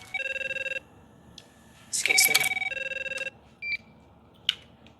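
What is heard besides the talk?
telephone ringing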